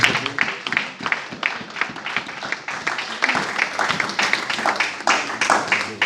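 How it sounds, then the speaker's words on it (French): A church congregation applauds loudly, a dense, steady wash of many hands clapping that fills the space for several seconds with no one speaking over it. "On acclame très fort pour la gloire de Dieu"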